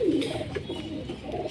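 A pigeon coos close by, a soft low warbling call that rises at the start and then repeats more quietly.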